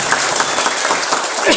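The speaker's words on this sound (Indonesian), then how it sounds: "Tepuk tangan untuk Jawa." A crowd at a religious gathering in Kebumen, Indonesia, bursts into brief, loud clapping lasting under two seconds, with voices mixed in.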